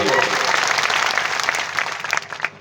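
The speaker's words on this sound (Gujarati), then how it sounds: "એમના માટે પણ જોરદાર તાળીઓ પાડલો" A crowd at a public gathering with police officers present breaks into loud, sustained applause, dense clapping that thins out and fades toward the end.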